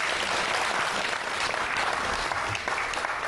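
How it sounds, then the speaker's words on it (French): Audience applause at a public gathering of citizens and press in Dixinn, Guinea, a steady dense clapping that runs through the whole moment, loud and close with no voices over it. "applaudissez très fort pour vous."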